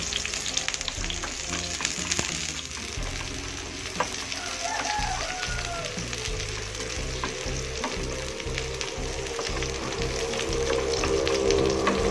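Garlic and shallots crackle and sizzle steadily in hot oil, a dense close frying hiss with occasional stirring taps that grows slightly louder toward the end, and no talk.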